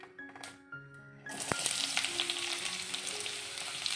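Chopped onion, green chili and curry leaves drop into hot oil in a pan, bursting into a loud, steady sizzle after a brief clatter, with crackling spitting throughout.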